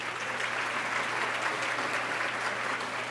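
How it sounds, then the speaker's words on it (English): A breakfast event audience at a Women's Day gathering in Santa Monica gives an even, steady round of applause, moderately loud throughout. "I want to thank our lead sponsors, Water Garden. Give them a round of applause."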